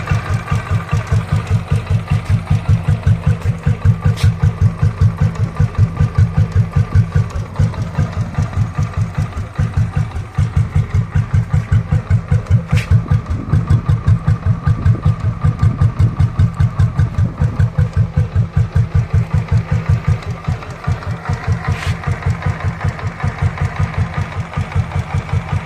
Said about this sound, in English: smooth running engine, and you can hear the beats